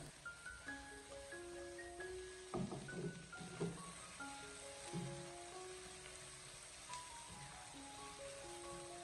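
Seasonings sizzle softly in a wok over medium-low heat while being stir-fried for tiger-skin green peppers, a faint steady crackle beneath a gentle background melody.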